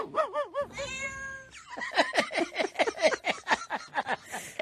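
A cat meows over and over at close range, a string of loud, rising and falling cries with short gaps between them, and no voices over it.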